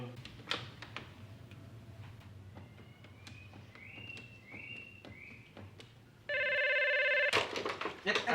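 Telephone ringing in an Indonesian comedy scene, an electronic ring that starts suddenly and repeats loudly over a quieter background of ticking, movement and distant voices.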